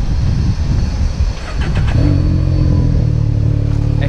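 A 2020 Can-Am Maverick X3 X RC turbo side-by-side sits close by, its engine loud and idling roughly before it revs up hard and holds a strong, steady drone.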